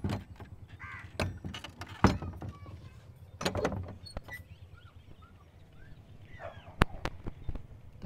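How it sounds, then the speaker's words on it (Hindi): A house door is pulled shut amid keys jangling, with sharp knocks and a clack that stand out over crows cawing faintly in the distance. "दरवाज़ा जो है ना उसको भी करते हैं बंद।"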